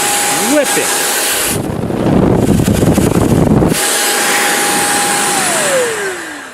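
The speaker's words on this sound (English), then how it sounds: "Really moves some air. This is a serious tool." A Roedix R7 electric air duster runs at high speed, a loud continuous whine that surges into a harsher, rushing blast for a couple of seconds, then settles back to a steady high-pitched hum.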